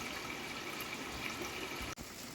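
Water runs steadily from a newly fitted bathroom sink faucet, a continuous close hiss with one brief dip near the end.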